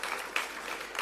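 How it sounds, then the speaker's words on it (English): A seminar audience at a vocational education forum gives a short burst of applause, a soft, distant spread of clapping lasting only about a second with no talk. "Can you give a round of applause?"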